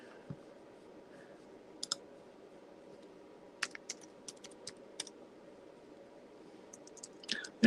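Computer keyboard keys clicking in scattered bursts, some single taps and some quick clusters, fairly close and crisp over a steady low background hum, with no talking.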